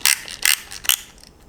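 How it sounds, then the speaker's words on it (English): A ratchet wrench snugs down a part during a classic car engine rebuild, giving three or four quick, close clicking bursts in a short run. "I'm gonna tighten this down a little. Just get it kind of snug."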